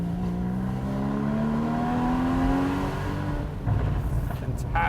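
Porsche Boxster Spyder with a manual transmission and mid-mounted engine, revving up in a steady rising pull, then easing off and roughening near the end, heard from inside the car with a voice faintly present.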